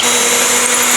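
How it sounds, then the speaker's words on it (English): A Milwaukee power drill bores a hole while a cat house is being built, giving a steady, close motor whine that holds level for the whole second with no talking. "I'm using the Milwaukee drill to drill in a hole"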